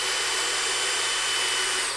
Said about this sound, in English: And then we use our lightly clutched driver to start securing.